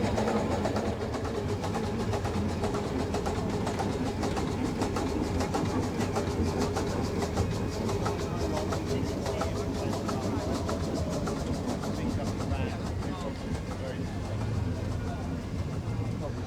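A steam-powered lorry built on a Bedford ML chassis, with a 10 horsepower boiler chain-driven to the lorry gearbox, rumbles and clatters steadily around a steam rally ring, a continuous mechanical drone with a crowd murmuring in the background.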